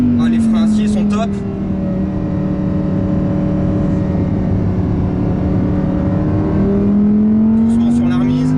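Audi R8 RWD V10 engine revving on a race circuit, a loud sustained drone with steady pitch that dips and climbs again, heard close from inside the car, with a few short bursts of talk at the start and end.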